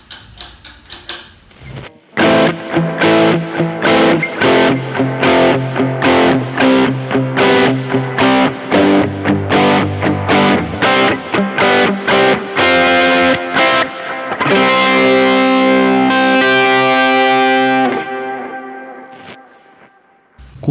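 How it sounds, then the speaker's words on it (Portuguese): Electric guitar with reverb and delay switched on for a worship-style tone, a run of plucked notes and strummed chords whose echoes swell into a lingering ambient wash that slowly fades. "Agora eu vou deixar ligado o reverb e o delay para você dar uma sacada no som"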